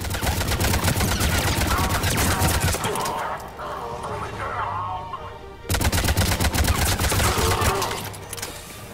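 Rapid bursts of automatic gunfire in Mass Effect 3, a firefight against Cerberus near an escape pod, loud and dense, with a short lull in the middle before the shooting resumes.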